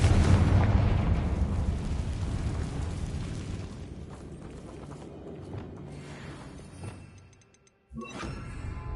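A loud blast from the Confringo fire spell in the Hogwarts Legacy video game bursts out at once, then rumbles and crackles down over several seconds before a brief silence and a fresh burst of game ambience.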